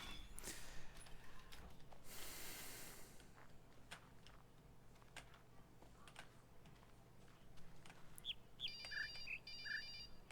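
A phone ringtone goes off near the end, a short run of quick electronic beeping tones over faint room noise and a hiss, fairly quiet and alone without talk.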